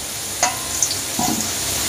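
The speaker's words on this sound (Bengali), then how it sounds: "এবার এই তেলের মধ্যেই আমি পেঁয়াজটা দিয়ে দেব।" Chopped onion sizzles in hot oil left from frying potatoes, with a steady frying hiss broken by a few brief spatters and stirring scrapes close by.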